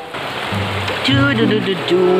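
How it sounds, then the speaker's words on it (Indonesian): Fast-flowing river current rushing steadily along the bank, a broad wash of water noise under someone speaking. "kita cari di pinggir-pinggir sungai saja soalnya arusnya sangat deras"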